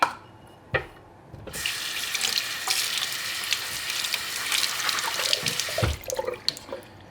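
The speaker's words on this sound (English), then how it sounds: "We'll go ahead and rinse our beans one more time." Soaked beans are rinsed under a running kitchen tap, a dense, steady splash and hiss of water starting after a brief clunk and stopping near the end.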